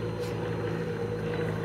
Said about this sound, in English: The airfield's busy today, you can hear the planes in the background,